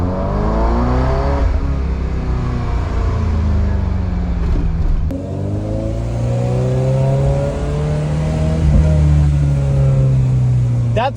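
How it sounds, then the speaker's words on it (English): A manual Ferrari 348 with no catalytic converter drives in first gear, its engine note loud and close, rising and falling as it revs with a brief shift partway through. "That's just 25 miles an hour in first gear, and the car just sounds incredible."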